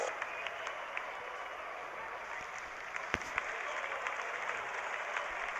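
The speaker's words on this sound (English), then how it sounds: "Crowd going mad here." A large stadium crowd at an India vs Australia Test cricket match applauds in a steady, distant wash of clapping, with a few sharper claps and no commentary over it.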